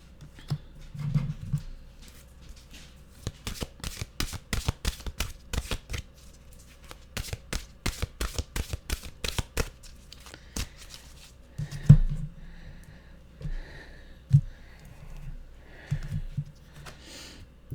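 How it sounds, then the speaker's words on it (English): Mantra cards being shuffled by hand in a fast burst of crisp riffling snaps, then slowing to a few softer slides and taps near the end, close and clear with no talk. "let's get a mantra card"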